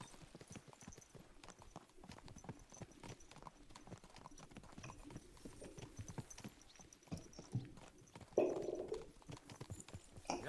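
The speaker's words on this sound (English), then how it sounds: "Watch out with that horse!" Horse hooves clip-clopping in the medieval role-playing game Kingdom Come: Deliverance, a steady rhythmic trot of repeated hoof beats at moderate loudness over ambient game sound, with a brief louder burst near the end.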